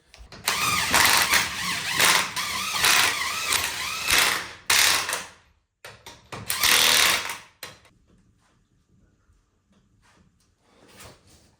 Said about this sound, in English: I'm just gonna use the impact, get them snugged up, do the cross pattern